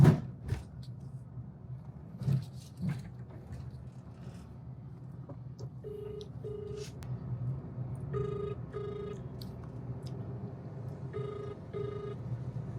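A phone ringback tone repeats in short paired beeps, fairly faint, over low background rumble with a few scattered knocks and clicks.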